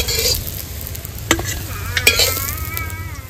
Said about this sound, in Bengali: এবার বাকিগুলো আমি ভেজে নিচ্ছি